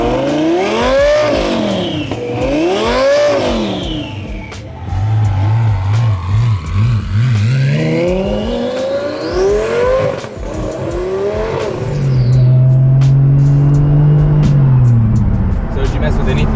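A 1400HP turbo Lamborghini revs hard and pulls away, its rising and falling engine notes loud at first and then carrying on as it leaves, with people talking over the sound.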